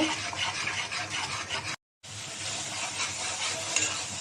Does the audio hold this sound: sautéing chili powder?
yes